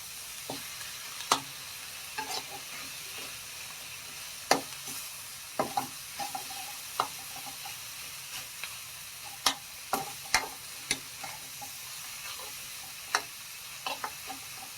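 Pork with egg and mayom leaves frying in a pan, a soft continuous sizzle broken by sharp, irregular clicks and taps of a utensil against the pan, close and without any talking.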